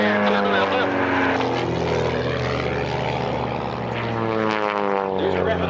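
Propeller aerobatic airshow planes performing maneuvers at EAA AirVenture, a loud sustained droning engine roar with shifting pitch throughout, with an announcer's voice faintly mixed in.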